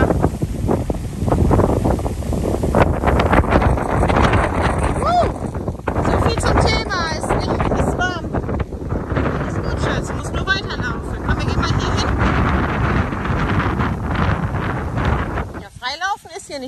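Strong wind buffets the microphone on a beach by the sea, a constant loud roar with gusts throughout, while people talk over it.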